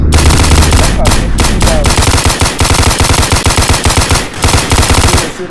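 Rapid automatic gunfire in a video game set in a gun shop, with loud, dense bursts of shots repeating steadily throughout, close and continuous.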